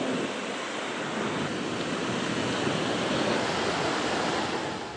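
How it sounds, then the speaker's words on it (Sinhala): Strong wind and rough sea waves at Galle roar as a dense, steady wash of noise that runs unbroken at a loud, even level, with no voices. "ඊයේ රාත්‍රී කාලයේ ගාල්ල ප්‍රදේශයේ අධික සුළං තත්වයක් සහ මුහුදේ රළු ස්වභාවයක් ගෙන තිබුණේ මේ"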